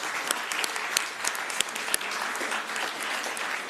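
Steady round of applause fills a county commission meeting marking the county's 200th anniversary, dense clapping throughout with a few sharper claps standing out, no talk over it.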